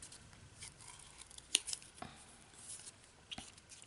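Scissors snip around the petals of a paper hibiscus craft, a few faint, quiet cuts with soft paper rustling between them.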